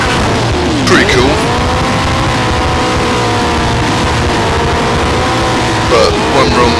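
Cars racing in a figure eight jump race in the video game Driven to Destruction, a loud steady engine roar with rising and falling pitch and a couple of brief bumps, under a talking voice.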